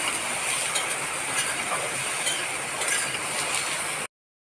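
Soybean chunks fry in a pan for a vegetarian curry, giving a steady dense sizzle with faint crackles that runs loud and unbroken, then cuts off abruptly.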